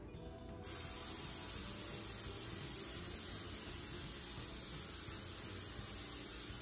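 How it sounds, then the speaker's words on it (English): A continuous hiss of non-stick cooking spray onto a cake pan starts after a brief pause and holds steady, close and fairly quiet, with no talking. "you need to spray it with some non-stick cooking spray"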